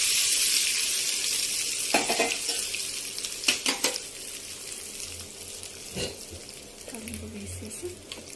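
Tadka tempering for dal sizzles in a hot pan, with steady broadband frying hiss and several sharp clinks of utensils against cookware scattered throughout, close and moderately loud.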